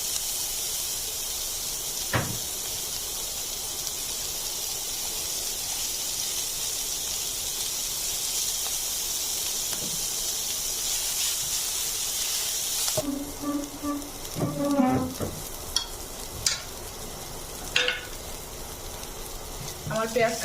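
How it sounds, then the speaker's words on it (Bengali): Onion and green chili frying in oil for a khichuri meal, a steady close sizzling hiss throughout, joined near the end by scattered stirring clatters and knocks. "এখন আমি একটু পেঁয়াজ এবং কাঁচামরিচ আলাদা করে ভেজে নিচ্ছি"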